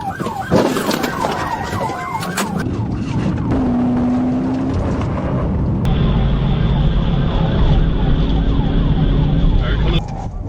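A police car siren wails loud and close as a trooper turns around on a highway to chase a speeding truck, the rising and falling tone shifting partway through over heavy engine and road noise.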